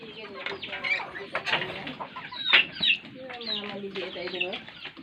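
Chickens kept on a Philippine backyard farm cluck and squawk close by while being fed, a busy overlapping chorus of calls with one sharper squawk midway.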